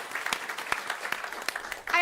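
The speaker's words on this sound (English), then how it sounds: "So give them a round of applause." Audience applause at a food systems conference, scattered clapping from a moderate crowd with distinct individual claps, fading near the end as a voice begins.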